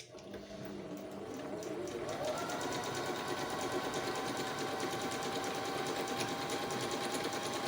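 A Singer 5200 sewing machine runs steadily at close range, its motor whirring as it stitches a continuous seam, starting up in the first seconds and holding an even rapid rhythm to the end.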